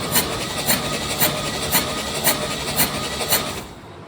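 A 1969 Chevy C30 truck engine cranks over during a compression test with the carburetor throttle open, giving a steady starter whir with regular rhythmic compression pulses that stops near the end.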